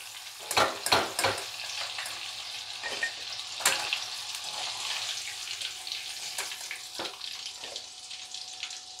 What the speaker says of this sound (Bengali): এটা অল্প ভেজে আমি তুলে নেব